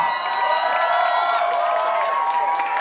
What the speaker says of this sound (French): Mark Weld, on peut l'applaudir bien fort, s'il vous plaît.